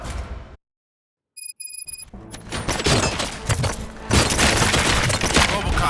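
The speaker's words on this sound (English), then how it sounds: "Gunshots?" Gunfire in the video game Robocop: Rogue City starts after a short silence and a few electronic beeps, then builds into loud, dense volleys of shots and impacts that carry through to the end.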